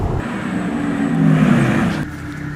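A fully electric Porsche Taycan accelerates while playing a synthetic engine sound, a low droning hum that swells and rises in pitch, then drops off abruptly; heard from inside the car, loud and without talking.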